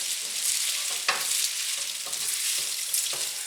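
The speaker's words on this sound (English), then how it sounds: "You want to stir the pasta and the pancetta together." Pasta and pancetta stirred with a spatula in a hot skillet, a bright continuous sizzle broken by several rhythmic scraping strokes, close and alone.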